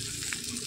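Fish belly and bottle gourd fry in a pan with a steady, close, soft sizzle that holds evenly throughout, with no talking.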